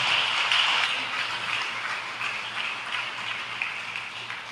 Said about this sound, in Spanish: da un gran aplauso al Señor